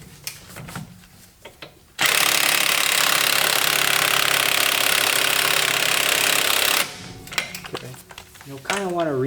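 A battery-powered impact tool works on ARP extended wheel studs on a Mazda Miata: one loud, continuous five-second burst of hammering whir, with quieter clicks and handling sounds before and after.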